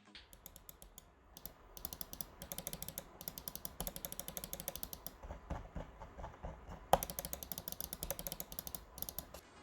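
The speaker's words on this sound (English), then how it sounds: "The front switches are Omron switches and they have a pretty soft muted click to them." Omron switches on a CoolerMaster MM830 gaming mouse click softly and mutedly, a quick run of close, light taps in an irregular rhythm.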